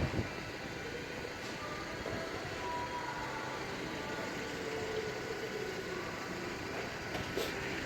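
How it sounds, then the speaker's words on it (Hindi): A car in a French garage descends on a lift during an oil change, giving a steady, even hiss and hum that holds at a constant level throughout with no voices. "और आखिरकार मेरी गाड़ी अब नीचे आ रही है।"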